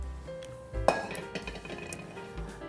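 A metal frying pan for frying eggs is set down with a single clanking knock and a short ringing clink, followed by quieter kitchen rattles, no talking.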